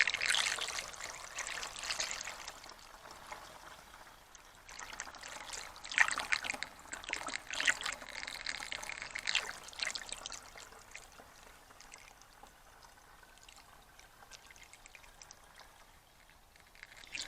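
Used engine coolant from a 2000 Ford F250 is poured into a container, giving a soft, continuous gurgling trickle that swells and fades, fairly close but faint.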